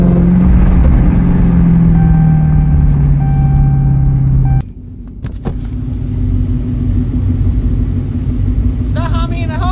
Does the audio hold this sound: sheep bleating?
no